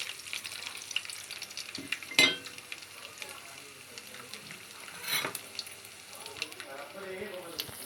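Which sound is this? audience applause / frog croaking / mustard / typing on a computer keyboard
mustard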